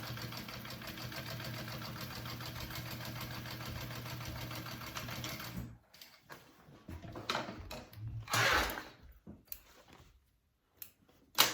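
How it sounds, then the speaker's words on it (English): Sewing machine running a long basting stitch down the sides of a fabric backpack, a steady continuous whir for about six seconds before stopping, followed by quieter handling and rustling of the fabric. "Just do a basting stitch down your sides."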